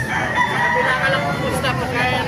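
Roosters crow over one another amid a background of clucking fowl and faint chatter, fairly close and steady, among gamefowl such as Lemon Sweaters in Baliwag, Bulacan, Philippines.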